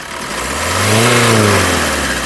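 A 2019 Maruti Suzuki Brezza VDI diesel engine revs once up and back down, a close, steady engine note rising to a peak and easing off.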